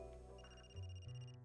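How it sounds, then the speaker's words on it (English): A phone rings in the video game Another Code: Recollection. A short electronic ringtone with a high sustained tone plays over a faint musical background. "That's my phone."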